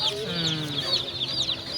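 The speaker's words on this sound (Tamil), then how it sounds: "கலர் கோழி குஞ்சு பார்க்க போகிறோம்" Coloured chicks peeping steadily in high, rapid chirps, close by at a Friday market in Pallavaram, Chennai, with lower clucking from adult hens underneath.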